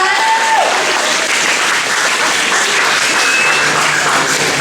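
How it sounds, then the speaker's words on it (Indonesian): An audience claps loudly and continuously at close range, a dense, even burst of applause that holds for several seconds. "boleh tepuk tangannya sekali lagi buat teman-teman yang di depan"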